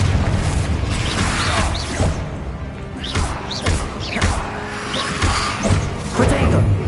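Confringo fire-blast spell exploding in the Hogwarts Legacy video game: a rapid series of booming thuds and bursts mixed with dense game effects, with voices heard amid the fighting.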